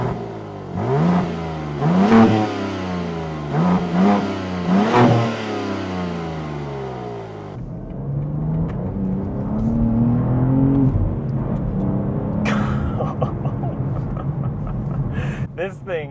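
A Volvo car revs hard in repeated surging bursts, then accelerates with a rising engine roar while its rear end slides. A voice talks over part of it.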